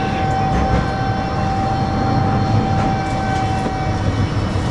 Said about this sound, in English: We're safely on the tram now, and we're working our way back now